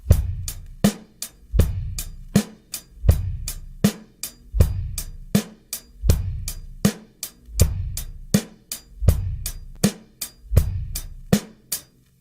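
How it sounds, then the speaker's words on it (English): A basic rock groove on a drum kit, steady eighth-note hi-hat with kick and snare beneath, repeating evenly and clearly with no voices. "Let's hit the first groove, the basic rock groove."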